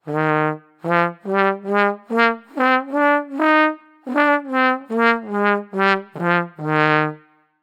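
A trombone plays a series of separate notes with poor articulation, blurry, uneven starts and a heavy, blatty tone, about a dozen notes in a halting rhythm.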